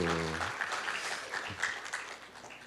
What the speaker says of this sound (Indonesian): Berikan aplaus Bapak Ibu.